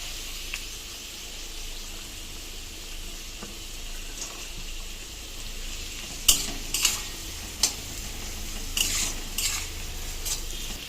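Carrots and beans stir-fried in a pan for fried rice, a soft continuous sizzle with occasional scraping and clattering stirs of a utensil against the pan.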